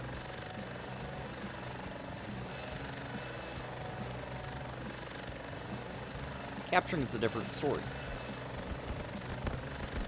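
A two-seat attack helicopter with a pilot and gunner drones in a video game, its rotor hum steady and moderately loud beneath someone talking, with a burst of sharper impact noise in the latter half.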